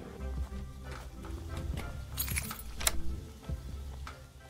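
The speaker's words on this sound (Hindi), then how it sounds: "चाबी मिला है मेरे को कहीं का।" Keys jangle in the video game Thief Simulator 2, a loose metallic clinking that rises to a sharper rattle midway, set against low background rumble and soft footstep-like thuds.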